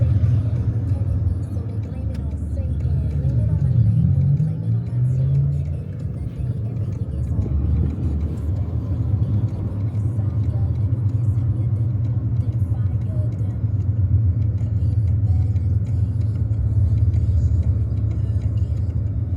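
A car moves through heavy city traffic in Berlin, heard from inside the cabin as a steady low rumble of engine and road noise, with faint voices in the car.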